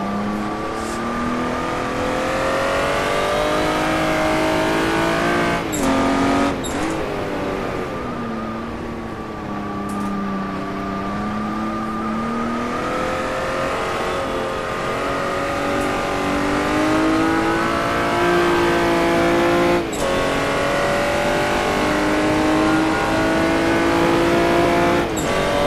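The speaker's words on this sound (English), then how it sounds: "I love the engine sound, it's so nice." Jaguar D-type race car on the Goodwood circuit, its engine heard from inside the car revving up and down through gear changes in a continuous loud roar with sharp shift breaks.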